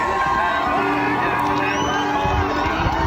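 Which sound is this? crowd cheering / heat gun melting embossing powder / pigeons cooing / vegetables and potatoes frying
crowd cheering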